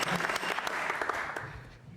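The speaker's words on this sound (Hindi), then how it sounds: "तालियां बजाइए जोरों से जयनाम के लिए" Audience applause for a contestant on a Hindi quiz show about Sanatan Dharma, a brief burst of dense, steady clapping that fades slightly toward the end.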